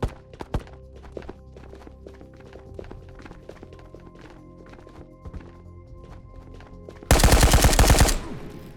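Scattered gunshots crack through a Ghosts of Tabor game scene near a museum, with faint background tones, ending in a loud rapid burst of automatic rifle fire lasting about a second.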